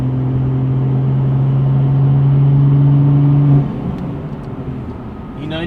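A newly fitted engine in a 340 runs at a steady idle with a strong low hum, then the tone drops and roughens as the revs change, loud and close throughout.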